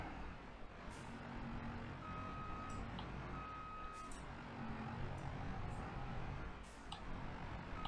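In Farming Simulator 22, a grape-harvesting vehicle backing up to a small trailer sounds steady intermittent reversing beeps over a loud, constant engine rumble.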